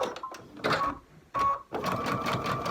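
A sewing machine stitches a quilt block in short bursts, with quick starts and stops separated by brief pauses, then a longer steady run of needle chatter close by.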